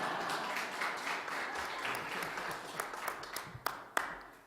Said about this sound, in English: let's all give the candidates a hand.